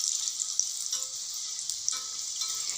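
Homemade children's evening snack dough frying in hot oil, a steady bright sizzle with small crackling pops running throughout, close and continuous with no talk.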